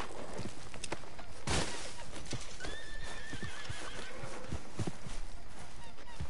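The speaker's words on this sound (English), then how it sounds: "Should I trade you in, Lara, for this horse?" Horse neighing and whinnying in Red Dead Redemption 2, with clip-clop hooves, a loud whinny near the start and more neighs midway over steady game ambience.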